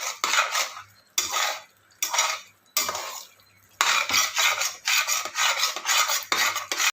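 Soy chunks (meal maker) are stirred steadily in a metal pan for a veg chicken gravy, giving repeated scraping, clattering bursts of a spoon against the pan, close and loud, with brief pauses between strokes.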